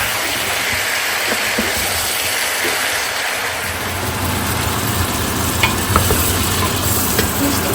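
Pumpkin, leafy greens and shrimp sizzle steadily in a pan, a continuous frying hiss with faint stirring scrapes, close and alone without talk.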